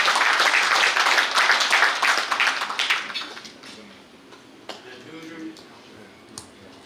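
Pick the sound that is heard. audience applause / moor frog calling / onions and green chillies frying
audience applause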